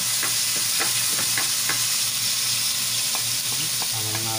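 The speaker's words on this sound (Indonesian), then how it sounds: "i-saute natin muna yung kalabasa ng at least kahit 2 minutes bago natin siya i-blender" Squash and onion sauté in a hot pan for creamy squash soup, a loud steady sizzle with occasional stirring clicks of a utensil against the pan, no talking over it.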